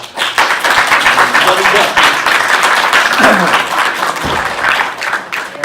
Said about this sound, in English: Again, a round of applause for Mr. Kamara